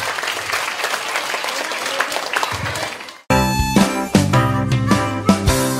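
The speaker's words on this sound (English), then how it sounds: "Could we give a big round of applause to the teachers for their hard work over the past few months?" An audience at a children's end-of-term concert claps loudly for about three seconds. The clapping stops abruptly and a bright piano-and-vocal song starts.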